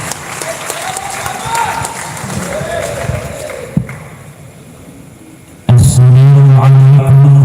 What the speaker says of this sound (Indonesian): Tepuk tangan dulu yang meriah untuk Kiai Majuddin